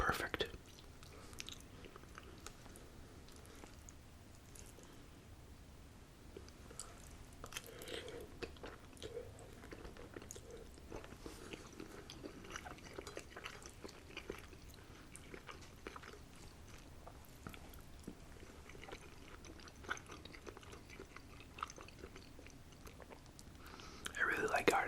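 Soft, close crunching and wet chewing of shrimp during an ASMR mukbang meal, quiet and intimate, with mouth sounds and faint breaths repeating steadily over a low background.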